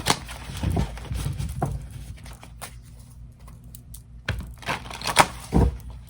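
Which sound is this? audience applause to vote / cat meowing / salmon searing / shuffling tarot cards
shuffling tarot cards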